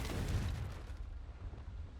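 A Confringo fire spell detonates in the Hogwarts Legacy video game: one loud, broad blast that rumbles and fades away over about two seconds, with no voices.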